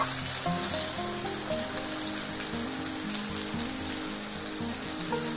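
Onions and carrot with a little salt sizzle steadily in a pan while egg noodles are prepared, a continuous close frying hiss with faint stirring clicks and no talk.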